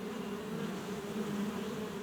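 A swarm of wild honey bees taking flight from a tree hollow to move to a new nest in an old beech, making a dense, steady buzzing hum that stays loud and unbroken throughout, with no voices.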